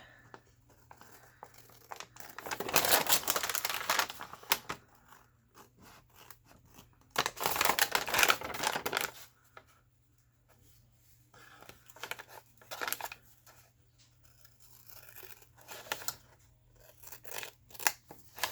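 Scissors snipping through a coffee-dyed collaged paper craft tag, with several bursts of close, crisp cutting separated by quiet pauses, paper rustling faintly between cuts.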